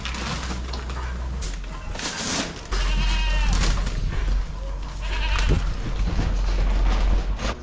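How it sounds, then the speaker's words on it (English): Calves being weaned slowly off milk bleat on a farm, several overlapping calls rising and falling, close and loud over a steady low rumble of machinery. "Calves now just starting to come down off milk, being weaned slowly."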